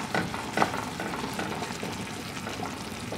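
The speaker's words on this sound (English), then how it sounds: "Chop up your ground beef as you're cooking it." Ground beef frying with sautéed onions and green peppers in a pan while a utensil chops it up, giving a constant close sizzle broken by a few sharper scraping knocks, with no voices.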